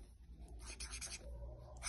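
A hand is writing numbers on a classroom board in short scratchy strokes, several bursts with brief pauses between them, heard up close in a quiet room.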